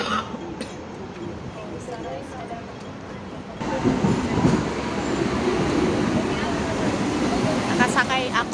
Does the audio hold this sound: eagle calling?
no